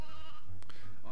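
Sheep bleat in the Toy Story 2 video game, a short bleat heard close over the game's background sound.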